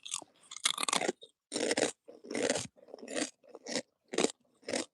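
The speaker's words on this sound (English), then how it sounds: "It's got a true crunch factor." Bacon chips crunched and chewed close to the microphone, a series of loud, crisp bites and chomps in irregular bursts with short pauses between.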